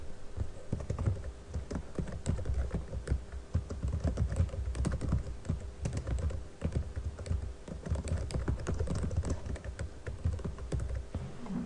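Fast, steady typing on a computer keyboard runs without a break, dense close-up key clicks entering a table caption in Microsoft Word.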